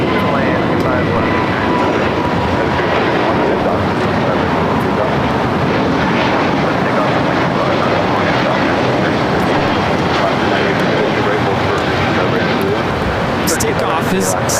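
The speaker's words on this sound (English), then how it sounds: "Takeoff is Spirit Airline 1724 taking off to Las Vegas on the A320neo" A Spirit Airlines Airbus A320neo takes off from LAX bound for Las Vegas, a steady loud jet roar sustained throughout, with speech running over it.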